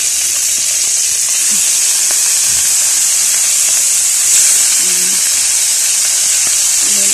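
Liver sautéing in a pan gives a steady, loud broadband sizzle and hiss with a few faint low knocks underneath, running continuously throughout.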